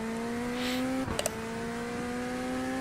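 A GT3 race car engine in the iRacing sim holds a steady, tonal drone at constant revs, then a brief gear-change blip and a pair of quick pops midway before the steady note resumes, loud and without talk.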